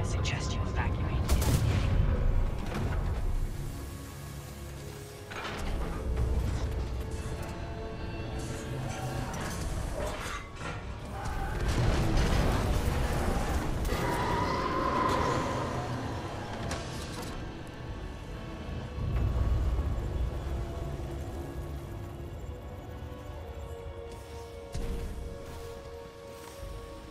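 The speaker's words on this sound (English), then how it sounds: "Series of explosions just weakened the manipulator arm." Repeated booming explosions and bursts of gunfire-like blasts rumble through a busy Titanfall 2 game soundscape, with loud heavy hits every few seconds.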